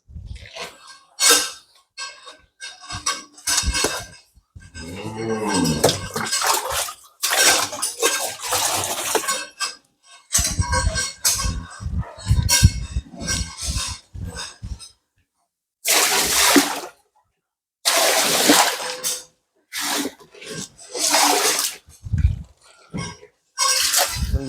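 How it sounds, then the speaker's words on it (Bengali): Water sloshing and splashing as a cattle feed trough on a cow farm is scrubbed out, in irregular bursts of scraping, clattering and splashing broken by short pauses, close by. "কিন্তু আমরা চারিটা ধুয়ে ফেলবো, একবারে ধুয়ে পানিগুলা উঠিয়ে ফেলবো চারি থেকে"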